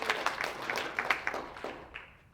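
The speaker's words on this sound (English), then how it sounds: "So give them both a round of applause" Applause from an audience at an elementary school winter sports awards event, honoring two girls' basketball players: a steady patter of many hands clapping, fading out near the end.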